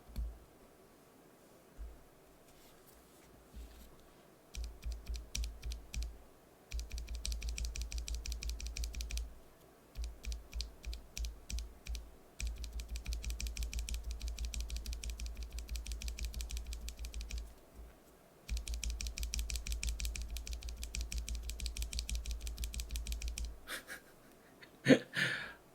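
Typing on standard lubed NovelKeys Cream switches with switch films, quick bursts of clacky keystrokes separated by short pauses, fairly close and quiet, no one speaking.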